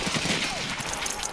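Gunfire in the Escape From Tarkov video game, a rapid burst of close, sharp shots rattling across the whole clip over a busy game background.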